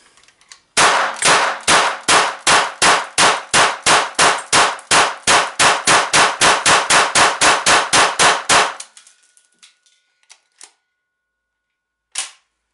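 A GSG MP 40 9mm blank-firing replica submachine gun empties a magazine during an endurance test, giving a fast, steady burst of about thirty loud, ringing shots close by, followed by a short pause and one last faint clack.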